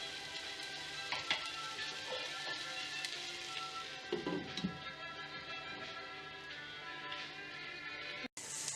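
Beans and carrots sautéing in a covered pan for paneer fried rice give a soft, steady sizzle with occasional light stirring scrapes and taps, quiet and close.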